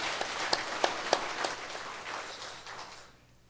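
A church congregation at a revival service applauds the choir in blessing, a soft wash of clapping with a few sharper claps standing out early before it thins and fades away near the end.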